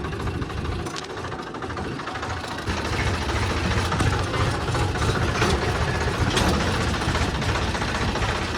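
A farm tractor's diesel engine runs steadily in a village setting, with a loud, continuous low rumble and chugging vibration that grows slightly heavier partway through. No voices are heard.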